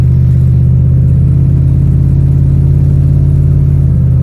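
A worn car with a misfiring engine accelerates on the road, its loud, steady mid-pitched engine rumble running continuously through gear changes without any voices.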